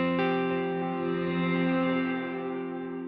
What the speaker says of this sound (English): Kind of hear your dry signal a little bit more there before the reverb even does anything.